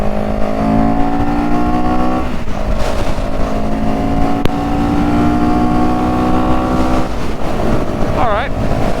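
A CFMOTO CLX 700 motorcycle accelerates on a road toward a highway, its engine note rising in pitch through the gears under heavy wind rush, with a brief shift dip partway through.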